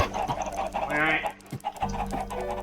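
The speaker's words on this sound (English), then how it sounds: "I hate the clucking" Minecraft chickens clucking in short game-sound bursts, fairly close and steady across the moment, with a brief louder squawk near the middle and no talk over them.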